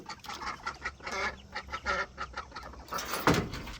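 Ducks and ducklings in a homestead barn give a run of repeated nasal quacks and honks, close and fairly loud, some overlapping, with a louder burst near the end and no talking.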